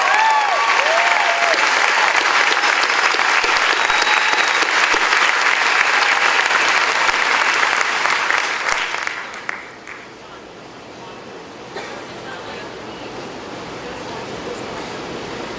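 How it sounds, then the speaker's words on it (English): A high school graduation audience applauds all-state musicians in a large hall, a dense, loud wash of clapping that holds for about nine seconds, then drops away to a quieter room with scattered claps and murmuring. "Please rise as we applaud their achievement."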